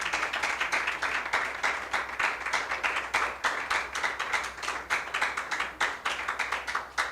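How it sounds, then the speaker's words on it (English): Applause at a seminar, a smaller group clapping with individual claps distinct and rhythmic, steady and fairly close for the whole stretch. "let's give SWIFTtrip a big round of applause"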